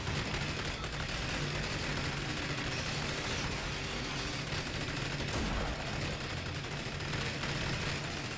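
Sentry turrets in the video game Rage fire continuously, a dense, steady barrage of rapid gunfire that runs loud and unbroken through the whole stretch with no talking.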